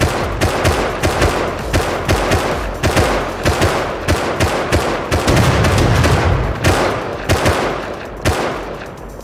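Dense, loud gunfire in the survival game Rust fills the stretch: rapid overlapping shots and bursts, close and nearly continuous, with no talking.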